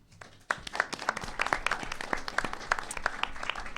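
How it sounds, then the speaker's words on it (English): Audience applause at a 2019 city council forum, a crowd clapping steadily with dense, overlapping hand claps that start abruptly and carry on at moderate loudness. "Thank you, Maxine, and I think that applause earlier was, you're glad I'm gone from LC."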